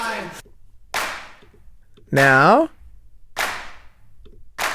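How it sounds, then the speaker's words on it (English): Layered hand clap samples from Splice hit as sharp, loud percussive bursts at a steady beat, roughly once a second, with a short voice blip in the middle. "We've got a blend of claps, I think, just from Splice, really."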